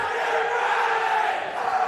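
High school student section chanting and cheering at a basketball game, a steady dense crowd roar filling the gym with no breaks.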